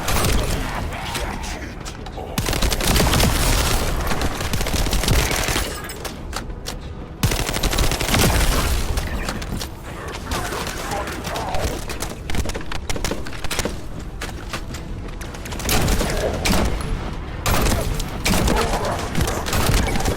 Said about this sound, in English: It shoots like a heavy rifle.